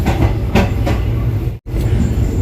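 Poorna Express rumbling along the Konkan railway, heard from inside a carriage: steady loud wheel rumble with rhythmic clickety-clack joints, briefly cut by a gap of silence before the running noise resumes.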